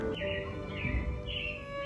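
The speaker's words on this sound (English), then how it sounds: "It looks like the Robins are getting ready to celebrate Valentine's Day today." Animatronic robins chirp in the Carousel of Progress show at Magic Kingdom, a few light tweeting calls over a steady hum of stage music and room sound.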